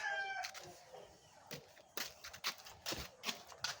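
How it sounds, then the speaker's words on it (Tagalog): A chicken clucks in short, faint bursts, with a brief crow-like call at the start, somewhat distant and fairly quiet. "Meron manok."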